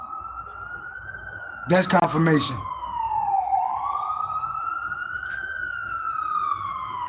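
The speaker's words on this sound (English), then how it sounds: "You hear the sirens?" A wailing siren rises and falls steadily in the distance, with a short burst of speech briefly cutting over it.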